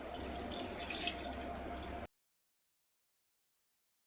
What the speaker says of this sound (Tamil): மிக்ஸி ஜாரில் நம்ம தண்ணி ஊற்றி கொஞ்சம் வழித்து இதில் ஊற்றிக்கலாம்